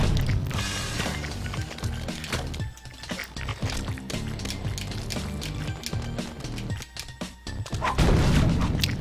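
Busy Super Meat Boy gameplay sound from a level full of cycling saws: chiptune-style music mixed with dense crashes, whooshes and impacts, loud and continuous, building to a heavy burst at the end.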